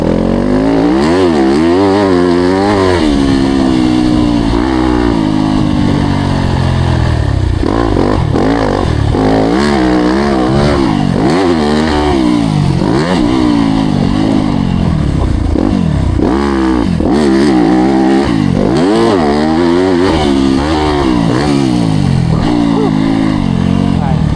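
A Yamaha YZ250F dirt bike engine revs and pulls hard while being ridden, loud and close throughout with rising and falling pitch as the throttle opens and closes.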